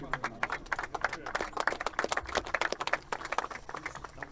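A crowd claps together at a gas balloon race briefing, a dense burst of applause that holds steady for several seconds with some voices mixed in.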